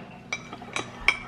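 Ice cubes tap against a drinking glass three times in quick succession, bright small clinks spaced unevenly, close and fairly soft over a quiet background.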